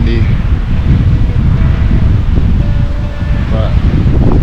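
Strong wind on an open Alberta hillside roars and buffets the microphone loudly and continuously, with a few faint voice sounds in the gusts.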